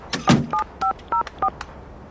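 A telephone being dialed: five short, evenly spaced dial tones follow a couple of quick handset clicks, close and clear with no talk.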